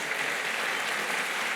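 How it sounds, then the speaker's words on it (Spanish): A church congregation bursts into steady, dense applause, a continuous wash of many hands clapping at even loudness throughout with no individual claps standing out. "Dale un fuerte aplauso a nuestro Dios."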